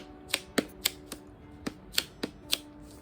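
Tape peeled off in a series of eight or so short, sharp crackling rips at an uneven pace, close and fairly quiet, with a faint steady hum underneath and no talk, as it is pulled to cover a library sticker on a book.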